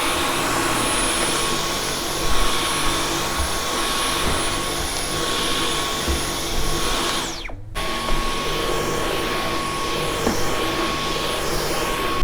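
Dyson V11 Origin cordless vacuum cleaning carpeted stairs, a loud continuous high-pitched whine with a steady roar, close up, with a brief thump partway through.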